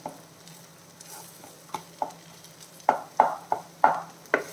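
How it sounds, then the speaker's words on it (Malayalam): Spinach and egg being stirred in a non-stick pan, a series of soft, close scraping taps falling in a loose rhythm over a faint sizzle, growing louder toward the end. "ഇപ്പം നോൺ സ്റ്റിക്ക് ആയതുകൊണ്ട് നല്ല സൗകര്യമുണ്ട് മുട്ട ഇളക്കി എടുക്കാനൊക്കെ"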